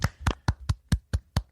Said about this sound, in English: We should really give her a round of applause.